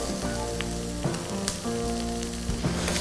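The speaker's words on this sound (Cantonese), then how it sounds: "啲洋葱我哋俾大概2分鐘到嘅時間佢啦，炒到開始軟身" Chopped onions sizzle steadily in hot oil as they are stir-fried in a pot for prawn risotto, with occasional clinks and scrapes of a utensil against the pan.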